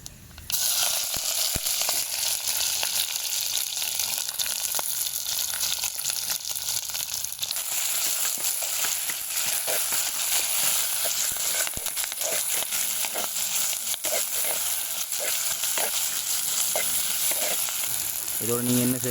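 Onion, curry leaves, mustard seeds, ginger and chili sizzle steadily in hot oil for a homemade cuttlefish curry, a continuous close frying hiss with occasional stirring clicks and no talk.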